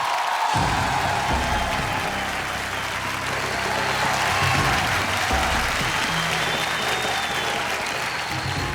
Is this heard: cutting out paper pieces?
no